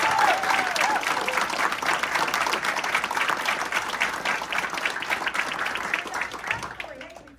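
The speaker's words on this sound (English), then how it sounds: "Never gets any applause, so I'd like to." Steady, dense applause from a cabaret audience fills the whole stretch at a constant loud level, fading slightly at the very end.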